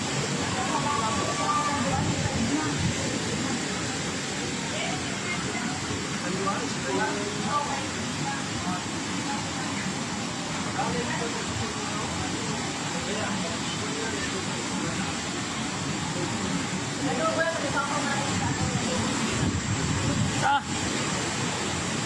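Typhoon Uwan (Fung-wong) in the Philippines: strong wind roars steadily with heavy rain hissing throughout, a dense, constant storm noise with occasional gusts.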